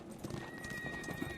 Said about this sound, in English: another horse starting to come towards you on the road.